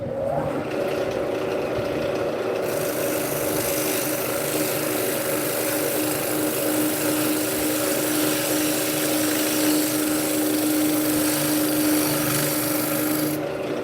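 A woodturning gouge is sharpened to a fresh edge on a grinder, giving a continuous gritty rasping hiss with a steady whine that runs for many seconds, close and even in level, without speech.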